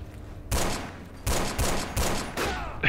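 Machine gun fire in the Forgotten Hope 2 multiplayer game on the Meuse River map, four loud close bursts separated by short pauses over a low rumbling background.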